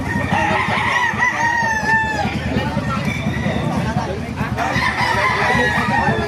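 A rooster crows loudly and nearby at a busy poultry market, one long crow followed by another, over a constant babble of people talking.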